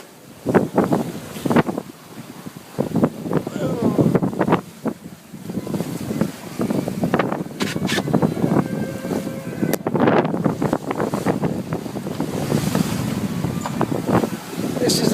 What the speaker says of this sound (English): Sailing hard on the wind again.